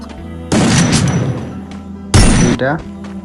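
Gunfire in a mobile shooter game played on an iPhone X, with two loud bursts of shots, the second ending in a headshot, heard close and over continuous game sound.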